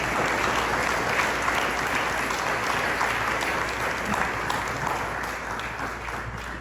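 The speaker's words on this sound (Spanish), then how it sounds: "Dame un aplauso al Señor." A church congregation claps together in steady, dense applause during a Spanish-language service, loud and continuous, easing off slightly toward the end with no voices on top.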